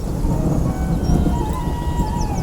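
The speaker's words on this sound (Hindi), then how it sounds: "अरे बहुत तेज बारिश हो रही है" Heavy rain pours in an animated story, a dense, steady rushing wash with a deep rumble of thunder underneath.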